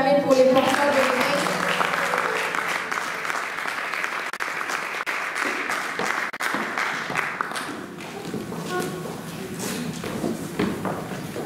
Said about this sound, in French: On peut encore acclamer pour les porteurs de l'église.